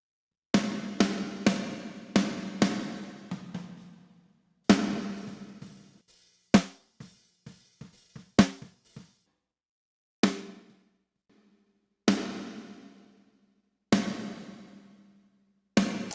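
Sharp metallic snare hits through a Valhalla Supermassive reverb with a long, washy tail, struck in bursts, some quick fills, with silences between phrases.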